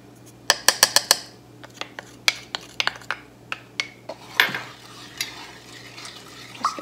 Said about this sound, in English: Just gonna stir this up and let it come to a boil.